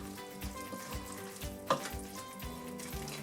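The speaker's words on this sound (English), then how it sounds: "and give it a little stir." Vegetable stock being stirred into minestrone soup in a pot on the stove, a steady sizzle and gentle liquid churning with soft scraping sounds, close and moderately loud throughout.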